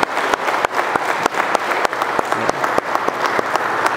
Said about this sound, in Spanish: Damos un fuerte aplauso a Magali, por favor.